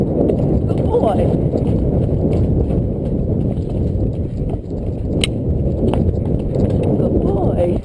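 Horse hooves drum in a fast, continuous gallop in a video game, dense and close, with a voice speaking over the pounding rhythm.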